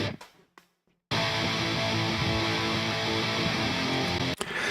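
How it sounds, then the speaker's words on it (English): Loud distorted pop-punk rhythm guitar, dense and driving, kicks in after a few short muted strums and cuts off briefly near the end. "firstly, get great rhythm guitar sounds like this."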